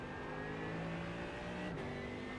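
A Mercedes AMG GT3 EVO race car in iRacing at Daytona, its engine note rising steadily as the throttle builds, loud and continuous from inside the car, with a brief shift near the end.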